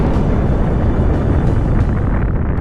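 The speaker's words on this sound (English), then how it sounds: "the star can no longer accommodate it, and it eventually explodes" Sound effect of a star exploding as a supernova, rendered as a continuous, loud, deep rumbling roar that holds steady from start to finish with no speech.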